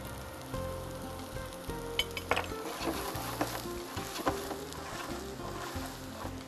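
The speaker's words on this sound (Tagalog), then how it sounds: "habang ginigisa po natin ang ating sibuyas at bawang" Onion and garlic sautéing in hot oil in a pan, a steady close sizzle with occasional clinks and scrapes of a utensil stirring throughout.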